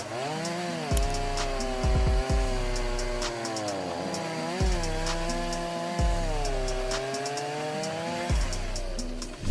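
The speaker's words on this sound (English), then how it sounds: "High-speed chainsaws are an extremely effective tool in the wood industry, helping to increase productivity with the ability to cut quickly and accurately." A high-speed chainsaw cutting large wood, the engine whining loudly and dipping in pitch with each cut, separated by bursts of revving and thumping.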